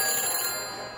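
A telephone rings in the Back to the Future video game, a single steady electronic ring held for about a second, close and clear, with no talking.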